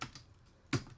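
Keys tapped on a computer keyboard, a few faint clicks followed by one sharper, louder keystroke near the end, close and otherwise quiet.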